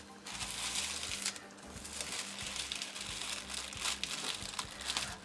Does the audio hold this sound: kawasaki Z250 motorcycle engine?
no